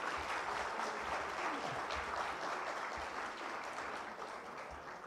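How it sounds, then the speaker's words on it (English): Applause for Task Force 6 at a panel event on the SDGs, a dense sustained clapping from a sizeable audience, steady and fairly loud, fading slightly near the end. "Can we please put a little more energy into applauding Task Force 6 and the exemplary work"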